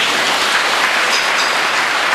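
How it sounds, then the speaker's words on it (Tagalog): Steady applause from an audience at a provincial capitol gathering, a dense, even wash of many hands clapping at close range, loud and continuous with no voices over it. "Palakpak po tayo dyan."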